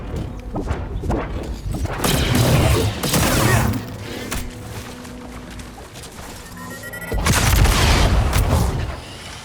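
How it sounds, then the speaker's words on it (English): Missile launch and explosions in Star Wars Jedi Survivor on PS5: heavy booming blasts and crashes with whooshing bursts, loud and close, rising in surges at about two and seven seconds amid continuous mechanical battle noise. "Releasing the missile."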